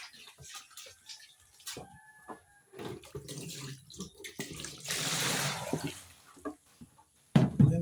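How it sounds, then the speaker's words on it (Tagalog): Dishes being washed in a kitchen sink under running tap water, with bursts of splashing flow, clinks and knocks of plates, and pauses between, close by and without speech. "Tapos na tayo maghugas ng plato."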